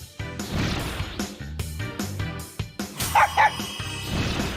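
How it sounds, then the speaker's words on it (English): A dog barks in the Persona Q video game: several sharp, loud yaps in quick succession, mixed with thumping game effects and short bright tones. "Bark, bark."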